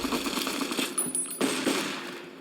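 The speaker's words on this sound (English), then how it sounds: "I'm just taking hits, reloading, and shooting them" Gunfire from a fight in Fallout: New Vegas comes as a run of fairly faint shots, with several sharper reports spaced across the stretch and a low steady hum beneath them.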